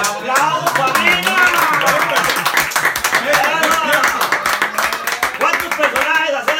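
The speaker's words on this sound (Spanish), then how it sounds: "¡Un aplauso, Padilla!" Clapping from a Costa Rican radio show's studio audience runs continuously while voices talk and exclaim loudly over it, the claps dense and fairly close.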